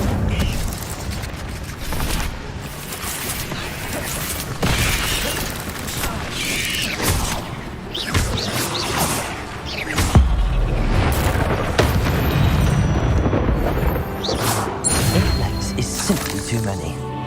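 Fire spell blasts from Incendio burst in Hogwarts Legacy, heavy booms and crackling impacts layered with game effects and combat noise, dense and loud throughout, with a player's voice speaking over parts of it.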